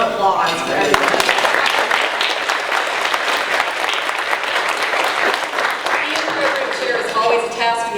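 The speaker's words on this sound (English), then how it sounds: "So he gets his own applause for everything." Sustained applause from a Rotary club meeting audience for the meeting organizer: dense, loud clapping that continues without a break, with some voices mixed in.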